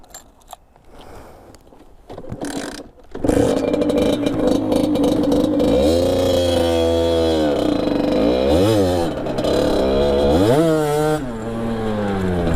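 A Sherco motorcycle with a slipping clutch does a burnout. After a quieter, clattering start, loud revving surges in and keeps swooping up and down in pitch, close and unbroken, with no talking.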